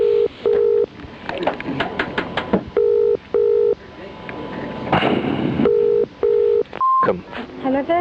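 A telephone ringing tone repeats in paired bursts, ring-ring then pause, over and over, while a voice talks faintly in the background.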